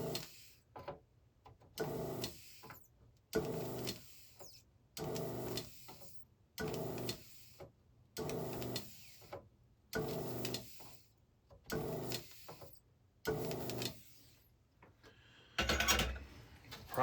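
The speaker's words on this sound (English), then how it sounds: "Not going to leave the desoldering gun on here for a long period. Just kind of sucking off the little bit that's on the bottom." A desoldering gun sucks solder off the underside of a Space Encounters arcade game circuit board. It gives about eight short bursts of whirring pump noise, roughly two seconds apart, with quiet gaps between and a final sharper burst.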